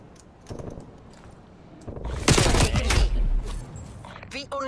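Gunfire in Call of Duty Black Ops Cold War during a Garrison Control match, a dense burst of rapid shots swelling loud in the middle, with game sound and faint talk around it.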